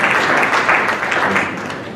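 An audience at a cultural event applauds a speaker's introduction, a loud dense burst of clapping from many hands that starts full and begins to fade toward the end.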